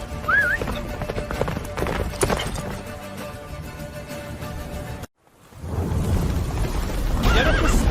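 Horse galloping in The Witcher 3 video game, loud clip-clop hoofbeats with whinnies and neighs, a brief dropout mid-run, then the gallop resumes with battle noise.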